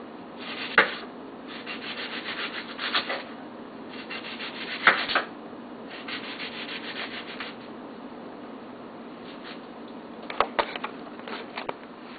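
A knife cuts an onion into thin slices on a board, giving soft scraping rubs broken by a few sharp taps as the blade meets the board, close by and without talk.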